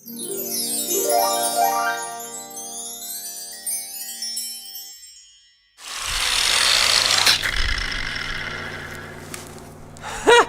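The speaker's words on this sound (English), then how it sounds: "maybe an angle grinder could just cut that." An angle grinder cutting into a transformer casing, with a harsh, high-pitched grinding rasp that starts abruptly after a stretch of unrelated sweeping tones and continues loudly with short bursts and pauses.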